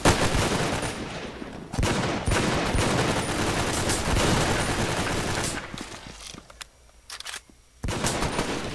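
Sustained automatic gunfire from a weapon in the 2D shooter Brain Out roars loudly and continuously, breaking off briefly near the end before another burst resumes.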